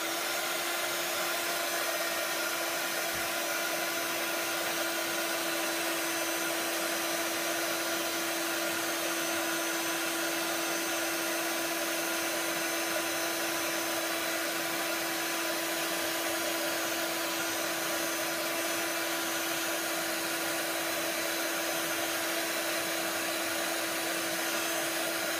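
Heat tool blowing steadily to heat-set beeswax-textured embossing powder on a handmade card, a constant loud whirring hiss with a steady hum, unbroken from start to finish with no talking.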